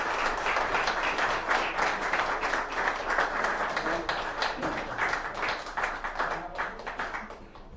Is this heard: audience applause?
yes